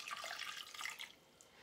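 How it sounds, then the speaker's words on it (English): Half a cup of water poured into a small crock pot holding corn cobs, a brief close splashing trickle that fades out after about a second, with no talk. "And I'm going to add a half a cup of water."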